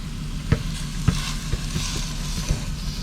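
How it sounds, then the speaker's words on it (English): Pork belly bites frying in a hot pan give a steady close sizzle and crackle, broken by a few sharp pops and clicks from the meat or utensil, with no talking. "Here it's sizzling."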